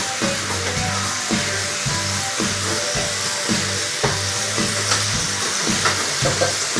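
Eggs fry in a pan with a loud, steady hiss and crackle, punctuated by a regular low rhythmic thumping from an appliance running nearby.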